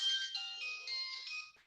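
A mobile phone rings with a bright electronic melody of short tonal notes, fairly loud and close, playing alone for under two seconds before cutting off.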